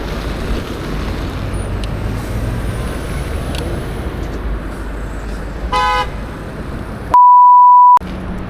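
A car horn gives one short, sharp toot in traffic over the steady rush of wind and road noise from an e-bike commute, followed by a long loud beep.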